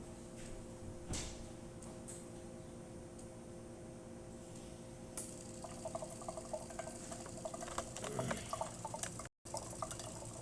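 A DeLonghi Dinamica Plus coffee machine, just repaired after a flow meter fault, dispenses hot water with a steady liquid trickle over a low machine hum, rising to louder splashing and gurgling near the end.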